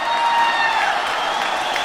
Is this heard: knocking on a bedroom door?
no